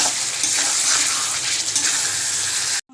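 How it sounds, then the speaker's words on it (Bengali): Potatoes are stirred and fried with chicken in a pot, making a loud, dense, steady sizzle with a wet rushing edge, ending abruptly. "আলুগুলো দিয়ে ভালো করে কষাবো।"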